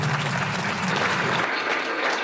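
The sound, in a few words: audience applause at image unveiling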